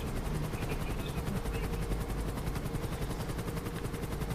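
Continuous helicopter rotor thrum in Grand Theft Auto V Online with rhythmic chopping pulses and a low engine rumble, steady and fairly loud throughout, with no talking.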